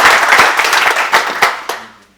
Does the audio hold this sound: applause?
yes